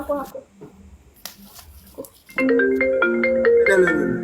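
A phone rings with an incoming call: a loud, steady electronic melody of stacked tones that starts midway and keeps going, after a stretch of quiet talk and light handling noises.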